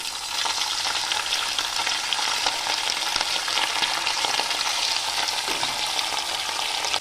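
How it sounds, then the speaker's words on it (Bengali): Marinated chicken coated in cornflour fries in hot oil, a dense, constant crackling sizzle that holds steady and fairly loud throughout, close up with no voices. "এবার এগুলো আমি ফ্রাই করে নিচ্ছি"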